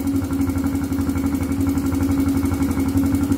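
A Honda XR80 motorcycle engine idles steadily close by, a smooth, even putter with a fast regular pulse and no revving, running alone without talk.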